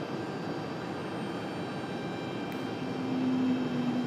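An American Airlines Boeing 737 jet waits at the end of the runway at Raleigh-Durham International Airport, a steady distant engine roar and hiss that swells slightly toward the end, with no voices.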